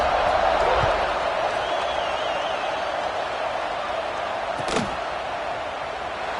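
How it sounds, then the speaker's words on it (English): A large crowd at a college football game keeps up a steady, dense roar throughout, with a brief thump partway through. "this crowd is buzzing after that last score"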